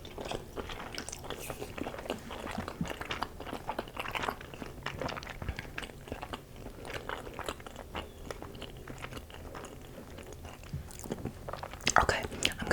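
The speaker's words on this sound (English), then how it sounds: "I'm gonna do one more and I'm gonna chew it as long as I possibly can." Chewing on Christmas pasta close to the microphone, a long run of soft wet mouth sounds and small crunches with occasional louder bites, intimate and steady, with faint whispering at times.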